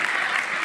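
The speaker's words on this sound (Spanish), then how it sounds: "un aplauso acá al músico Ramón" An audience applauds the musician Ramón during a church service, steady dense clapping filling the whole short moment.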